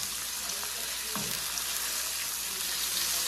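Venison backstrap steaks seasoned with rosemary sizzle steadily in hot, browning butter in a frying pan, a loud, continuous close-up crackle with a faint clink partway through.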